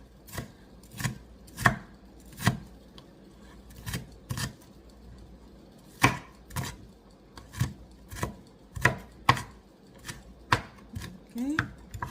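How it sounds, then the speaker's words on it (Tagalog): Knife chopping onion on a board for homemade miso soup: sharp, evenly spaced chops, close and crisp, repeating steadily with short pauses between strokes and no voice over them. "So I want more onions, so I might gonna cut another half of this one."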